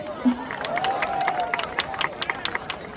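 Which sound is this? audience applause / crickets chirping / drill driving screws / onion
audience applause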